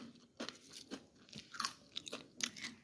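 Close, quiet crunching of dry breakfast food being bitten and chewed, with a series of irregular crisp crunches over a few seconds and no talking.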